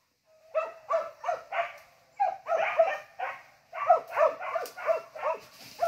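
A dog barks repeatedly in quick bursts, sharp and fairly close, grouped into irregular runs of several yips and barks with short pauses between, outdoors in a quiet setting.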